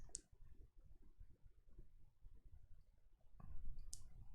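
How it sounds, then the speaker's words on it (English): Two sharp, quiet mouse clicks, one near the start and one near the end, from a computer mouse being right-clicked while working in Obsidian's Excalidraw plugin, against faint room noise. "I'm just right clicking here to bring to front."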